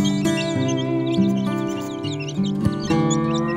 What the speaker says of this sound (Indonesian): Kalau ini ayam kampung